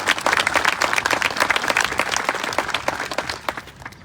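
A crowd applauds at a school ribbon cutting in Aurora, Illinois, dense, fairly loud clapping with many distinct hand strikes that continues steadily before tapering slightly at the end.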